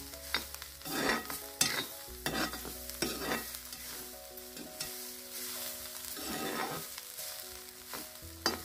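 Wild kantoli vegetable sautéing with grated coconut in a pan, soft sizzling under repeated scraping stirs of a spoon, close and fairly quiet.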